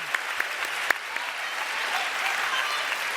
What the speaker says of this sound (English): So can I have a round of applause, please, for this debate to proceed?